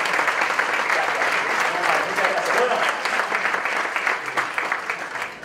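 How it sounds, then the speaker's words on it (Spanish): A crowd at a living statues contest show breaks into loud, sustained applause, with many hands clapping at once and a few voices mixed in under the clapping. "El aplauso."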